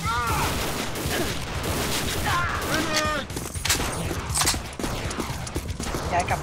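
Gunfire from the video game Banzai Escape comes in dense, rapid volleys that run nearly without pause, mixed with clanking game effects. Voices talk over the shooting.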